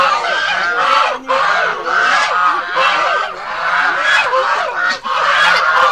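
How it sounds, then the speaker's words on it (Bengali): A flock of geese on Bhimtal lake honking loudly and close, overlapping nasal calls in quick bursts with almost no pause, a noisy chorus as the birds crowd forward toward food. "এখানেও প্রচুর পরিমাণে রাজহাঁস রয়েছে"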